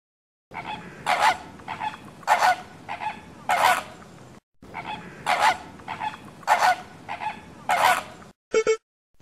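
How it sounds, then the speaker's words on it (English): A flamingo calls in repeated loud, nasal honks, several goose-like bursts in two matching series, close and alone. "Flamingo."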